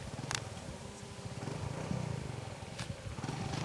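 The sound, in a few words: motorcycle engine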